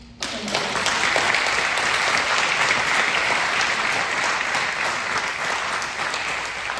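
Crowd at a roller rink campaign event gives a sustained round of applause, loud and dense from start to finish with a few whoops mixed in.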